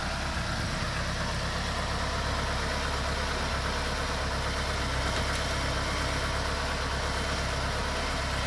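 A Tofaş Doğan car idles steadily after its first start in two and a half months, a constant close engine drone with a low rumble and no change in speed.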